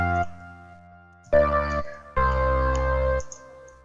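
A synth patch built on the FL Studio 3x Osc plays three sustained tones separated by gaps, bright and buzzy with a heavy low end, close and solo.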